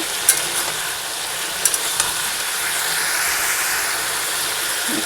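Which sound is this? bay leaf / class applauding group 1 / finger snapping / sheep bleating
bay leaf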